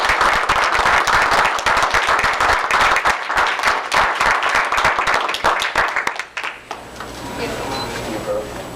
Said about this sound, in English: we give a big round of applause for Mrs.